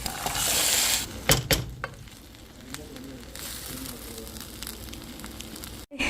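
Mustard seeds, small shallots, turmeric and chilli powder sizzle in a hot pan, starting with a loud bright hiss, followed by a few clanks of a utensil, then a quieter steady frying.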